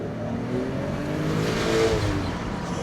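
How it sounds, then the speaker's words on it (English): A Toyota Aristo sedan with a twin-turbo 2JZ engine and TRD exhaust pulls smoothly under power, heard from inside the cabin through an open window as a steady, rising engine drone. "I'm just gonna open the window so you can kind of hear what this 2JZ sounds like with that TRD exhaust."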